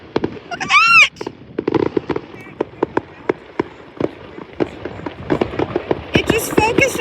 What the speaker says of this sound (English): It just focused on the fireworks.